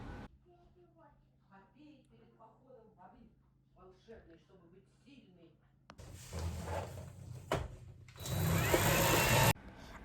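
A household vacuum cleaner starts up near the end, loud and close, after a stretch of speech. It runs with a steady roar, cuts out briefly, then comes back louder.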